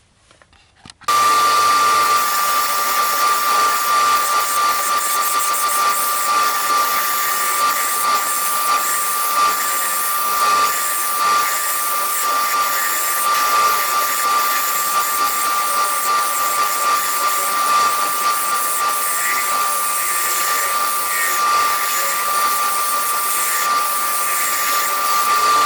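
Wood lathe running steadily as a spindle gouge, helped by a parting tool, hollows the inside of a three-wood box; a continuous loud whirring hiss with a steady high tone starts abruptly after a second and holds throughout.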